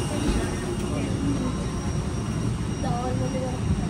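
Steady roar of a passenger jet's engines at the start of a night flight from Hyderabad to Leh, heard from inside the cabin as a constant broadband rumble with faint chatter underneath.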